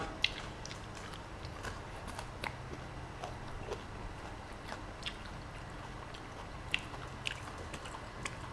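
Close, quiet chewing of fried pork eaten with old-style chili paste, with soft repeated bites and occasional sharper crunchy clicks over a low steady background.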